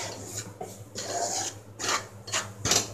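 Flour for Mysore Pak roasts dry in a pan while a utensil scrapes and rubs through it in rhythmic strokes, about six rasping passes close by with short pauses between them.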